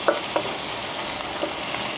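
Onions and green chillies fry in a little oil in a pan, a steady soft sizzle with a couple of brief stirring clinks near the start.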